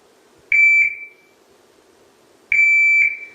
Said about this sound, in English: download the shot timer.